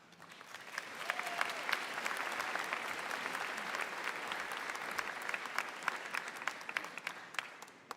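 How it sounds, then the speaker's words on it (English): Sustained audience applause fills a convocation ceremony hall as an honorary Doctor of Laws recipient comes to the stage, a dense wash of many hands clapping that swells early and holds steady throughout. "Thank you for the applause"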